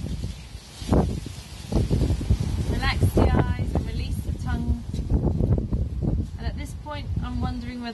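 Wind blows steadily outdoors, buffeting the microphone with low rumbling gusts throughout, while a person speaks over it.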